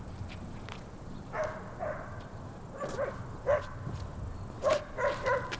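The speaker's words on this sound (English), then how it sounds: "You can hear the dogs barking there." Dogs bark at nearby dog parks beside a disc golf course during a 2015 King of the Lake round: several faint, distant barks scattered over a soft outdoor background.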